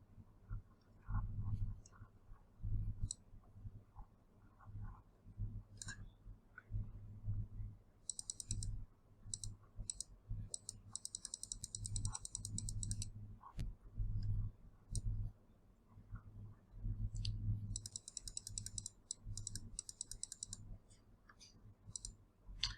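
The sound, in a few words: computer mouse clicking while selecting a file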